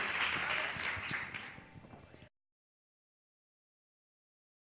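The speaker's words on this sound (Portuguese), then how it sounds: "Vamos aplaudir ao Senhor." An audience of women at a church meeting claps and applauds, a dense moderate patter that fades over about two seconds and then stops abruptly into silence.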